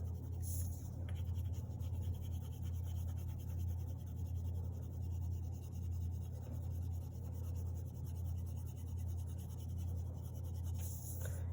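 A crayon or marker colouring in blue sky on a drawing on paper, a faint, continuous soft scratching close by, quiet and steady with no voices.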